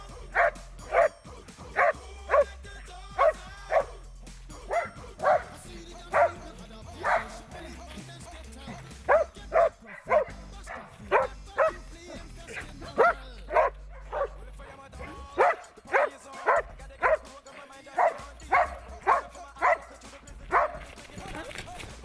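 A trained police dog at a canine training school barks repeatedly in sharp bursts while catching a fleeing suspect, loud and close, with someone talking between and over the barks.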